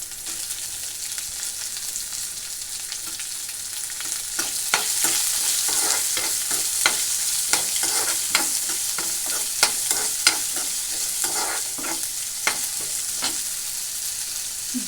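Urad dal, chana dal and onions frying in a pan, a constant close sizzle punctuated by regular sharp scrapes and clicks of a stirring spoon, growing slightly louder midway, with no talking.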